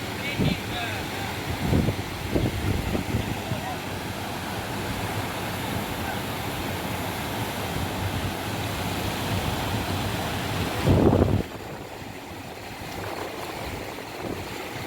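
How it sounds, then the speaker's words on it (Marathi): The flooded Panchaganga river rushes past in a steady, loud broadband roar. It carries on without a break, with a few louder gusts and some faint voices mixed in. "हे बघा तिथं पाण्याचं किती प्रेशर आहे."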